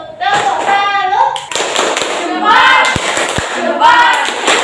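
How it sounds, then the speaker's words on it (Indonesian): A class of schoolchildren performs a rhythmic clap routine in a classroom, sharp claps and taps in patterned bursts mixed with children's voices chanting and talking over them. "Kita beri tepuk salut."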